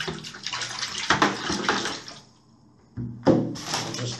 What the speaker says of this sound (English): we get this water agitated first to get it stirred up